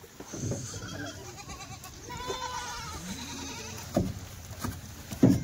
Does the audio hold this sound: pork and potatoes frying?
no